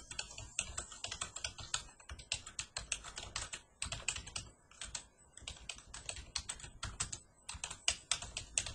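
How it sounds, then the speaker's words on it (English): Rapid typing on a computer keyboard, close and crisp, with bursts of keystrokes separated by brief pauses. "So I'm typing this"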